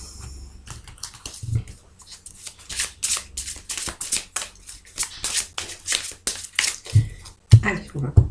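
Tarot cards being shuffled and cut, a long, close stream of rapid papery riffles and flutters building in density, ending with a few firmer slaps as the deck is cut, with speech in places.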